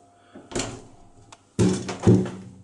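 A hotel room door in Brussels is opened nearby: a soft thunk, then two louder knocking, rattling bursts as it swings, with quiet pauses between them.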